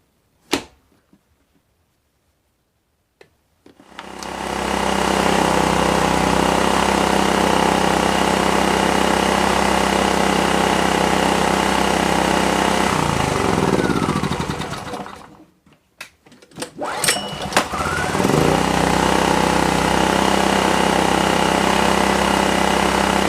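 A Predator 2500 generator engine, just after a carburetor clean, is pull-started with choke on. A sharp cord pull is followed by a loud, steady running drone that cuts out briefly around the fifteenth second and then restarts.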